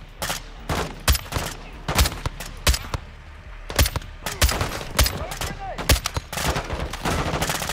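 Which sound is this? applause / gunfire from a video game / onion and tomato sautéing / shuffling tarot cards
gunfire from a video game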